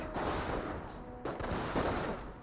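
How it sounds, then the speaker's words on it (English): Suppressive machine-gun fire in Company of Heroes, a World War II strategy game, rattling as a dense continuous burst of gunfire with a couple of brief swells, mixed with game battle noise. "Let's use suppressive fire there on this squad"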